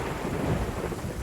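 Heavy rain and rolling thunder from an ambient effect in an online tabletop roleplaying game session, a steady loud wash with a rumble and a sudden burst at the end, with no voices.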